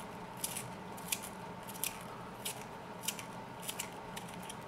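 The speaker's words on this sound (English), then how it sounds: "The sharpener is chewing this pencil up" Pencil sharpener chewing up an Arteza drawing pencil, giving short, crisp crunching scrapes at an uneven rhythm, close and quiet, with no voices.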